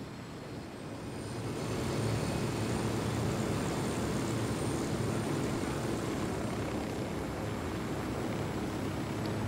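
A video game helicopter's steady rotor and engine roar, from Tom Clancy's Wildlands, swells over the first two seconds, then holds loud and constant with no talking.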